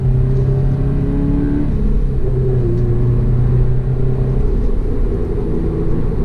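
A 2019 Subaru BRZ Performance Package engine blips and pulls under acceleration, a loud steady rumble with rising then settling tone, heard from inside the car with no talking.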